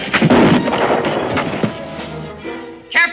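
A gunshot in a western TV drama, a loud sharp blast up front followed by a booming, fading echo, with a brief shout near the end.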